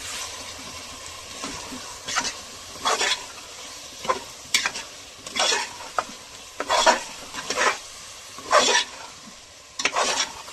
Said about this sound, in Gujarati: હવે કરી લઈએ મિક્સ